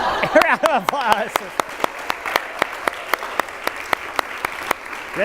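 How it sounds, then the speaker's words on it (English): A small group claps in a room, with a brief burst of voices and laughter at the start, then sparse, evenly spaced single claps carrying on alone. "Round of applause."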